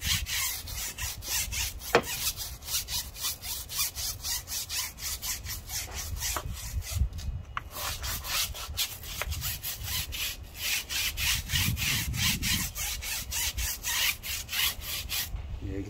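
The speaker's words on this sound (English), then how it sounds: "So, scrub the tire first." A Max Shine tire scrub brush scrubs a car tire in fast, continuous back-and-forth bristle strokes, close and steady for the whole stretch, rough and rasping with no talking.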